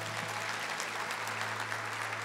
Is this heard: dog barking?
no